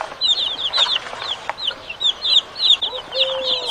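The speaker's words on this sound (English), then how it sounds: "chicks," Chicks and chickens clucking and peeping, a busy cluster of short high chirps and clucks repeating throughout, close and moderately loud, with no talk.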